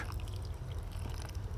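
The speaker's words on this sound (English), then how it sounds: "Pour some water in the pot" Water poured into a plant pot of soil to prepare for planting a bleeding heart (Dicentra) cutting: a short, close, continuous gurgling pour over a low rumble.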